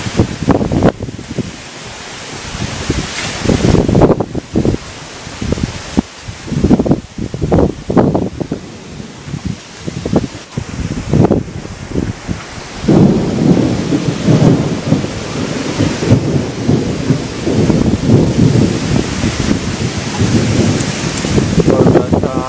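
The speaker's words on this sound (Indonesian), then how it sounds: "Luar biasa anginnya." A thunderstorm with strong gusting wind and rain, heavy roaring blasts and rumbles surging in waves, loud and close throughout.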